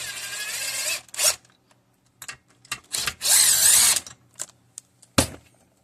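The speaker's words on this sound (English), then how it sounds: "get them the rest of the way with some kind of power tool" A power tool works on soft steel bolts during reassembly of a Massimo MB200S 196cc engine, firing in short loud whirring bursts separated by pauses, with clicks and handling noises in between.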